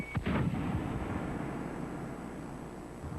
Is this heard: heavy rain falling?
no